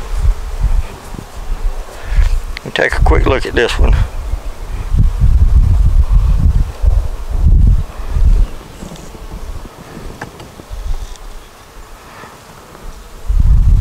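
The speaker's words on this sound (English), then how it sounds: "Good bees." Honey bees swarm around an open nuc hive holding eggs, brood and stores, giving a steady close buzzing with wind rustle and handling noises, while someone speaks briefly over it.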